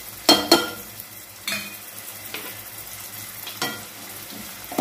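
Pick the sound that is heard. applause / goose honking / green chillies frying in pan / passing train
green chillies frying in pan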